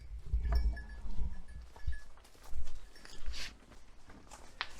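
Rams and sheep in a pen give short, low bleats several times in an irregular rhythm, close by, alongside shuffling hooves and movement, with no talking.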